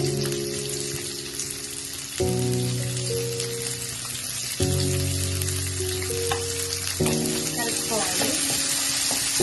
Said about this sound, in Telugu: ఇప్పుడు ఇందులో ఆనియన్స్ వేసుకుందాము